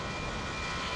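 An Airbus A380's jet engines roar steadily in Microsoft Flight Simulator 2020 near Heathrow, making a brief, even, broadband rumble with no talking.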